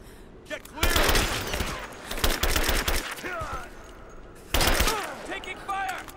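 Soldiers' gunfire in the mines of Rise of the Tomb Raider (2015): loud bursts of automatic fire in two volleys, with shouted voices and short pauses between.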